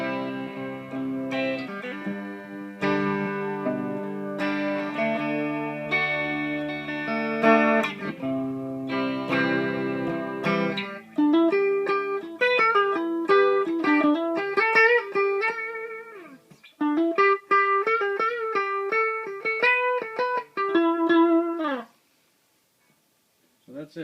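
An electric guitar runs through an MXR M234 analog chorus pedal with a slow rate and deep depth setting, giving a swimming, wavering shimmer to strummed chords and melodic single-note lines, played alone before a brief stop.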